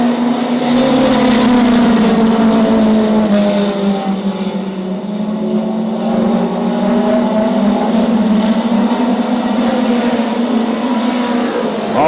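Stock cars race around Desoto Speedway in a loud, continuous roar of engines, pitch swelling and easing as the pack passes close by.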